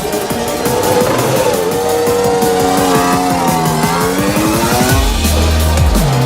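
Formula 1 car in qualifying at the 2017 Australian Grand Prix, its engine screaming loud and close through shifting revs before a sudden drop as the tyres lock up, with no voices over it.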